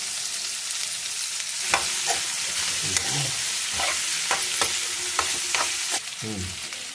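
Drumsticks fry in hot oil for a traditional drumstick, green pea and tomato curry, giving a steady close sizzle broken by sharp scraping and stirring clatters from the pan.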